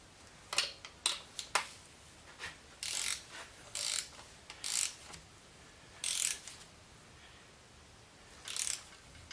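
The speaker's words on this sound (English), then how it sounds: "So I'm just going to go ahead and set my torque wrench." A torque wrench is set for tightening head gasket bolts on a WRX wagon, producing crisp ratcheting clicks and short rasping bursts that come in uneven clusters, close and fairly quiet, with no talking.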